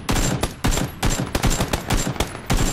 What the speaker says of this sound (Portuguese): Ele tá atirando pra trás, porque ele tá trocando tiro.